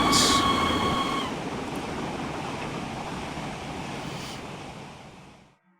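AT&N Consolidation steam locomotive running in Train Simulator on an Ohio steel line, a steady loud rumbling roll of the train that starts with a brief high whistle-like tone, holds steady, then cuts off near the end.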